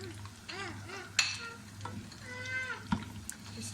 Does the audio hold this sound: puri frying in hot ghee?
yes